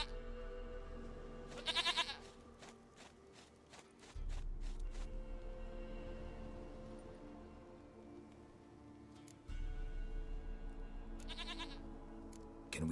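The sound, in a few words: goat bleating in The Witcher 3 video game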